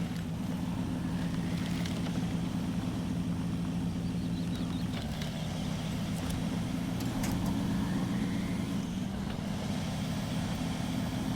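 A Patriot HMMWV in a video game, towing a trailer through mud, gives a steady low engine drone with a constant hum and occasional faint clunks.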